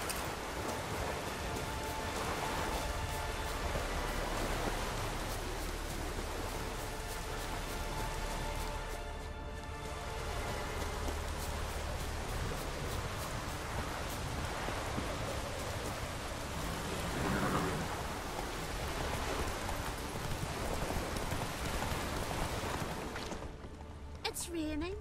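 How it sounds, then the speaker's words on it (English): Steady rain hisses throughout in the video game The Witcher 3: Wild Hunt, a dense, even wash of falling drops with faint voices murmuring underneath. "It's raining."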